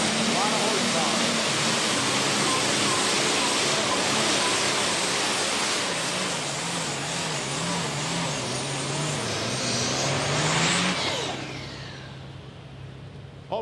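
A diesel super stock pulling tractor roars at full power during a pull at a county fair event, a loud sustained engine blast with wavering pitch that cuts off sharply near the end, leaving fading crowd noise.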